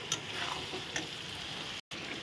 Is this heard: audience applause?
no